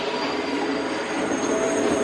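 Universal Studios Terror Tram at Halloween Horror Nights rolling along as a steady, loud rail-style rumble with a high wheel squeal running through it, continuous and close, with no voices.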